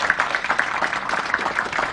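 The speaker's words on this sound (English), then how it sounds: "Can we give a round of applause?" An audience gathered for the announcement of KCSE exam results claps in a brief, uneven patter, moderately quiet, with a few distinct individual claps standing out.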